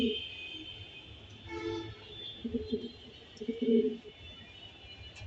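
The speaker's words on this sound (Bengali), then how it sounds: "অনেক ভালো ডাকের একটা কবুতর" A red checker racing pigeon coos in low, throaty bursts, a few repeated calls close by over a faint steady background hum.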